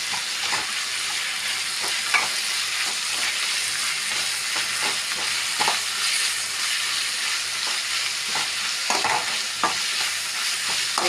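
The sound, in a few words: chopped green chillies sautéing in a pan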